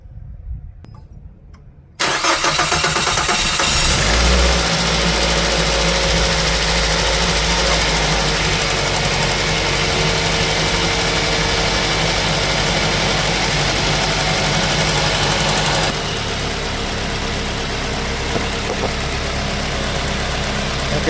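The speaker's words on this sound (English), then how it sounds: "Now going to start the car." A Mazda 3 engine cranks and catches after its fuel injectors were cleaned, then settles into a steady, loud idle close by that drops slightly in level near the end, with no voices.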